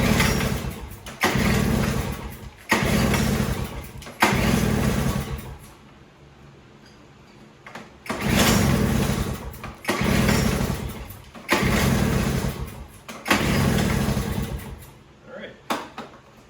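A Toro single-stage snowblower engine is cranked repeatedly, several loud bursts of rough pulling and sputtering separated by short quiet gaps, catching briefly in some attempts.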